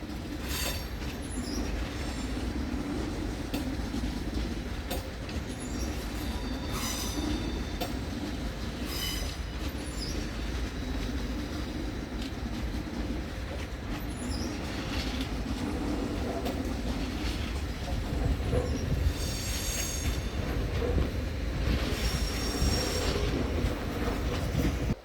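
An ÖBB train pulls into Munich main station, a steady loud rumble of wheels on rails with clickety-clack and occasional high wheel squeals, continuous and close throughout.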